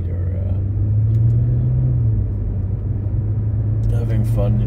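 Steady low car engine rumble while cruising along a road, a continuous drone with a slight rise in pitch partway through, loud and close with faint talk underneath.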